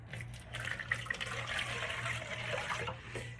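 A cup and a half of warm water pours steadily into a bowl with salt and brown sugar for soft pretzel dough. The trickle is quiet and close, with no talking.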